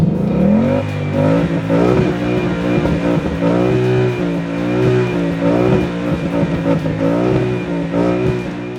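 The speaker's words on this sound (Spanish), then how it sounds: "Es un sonido ronco, sobre todo el que nos viene del escape." A loud, deep exhaust rumble from a Ford Mustang, its engine revving up and down in repeated waves, close and sustained.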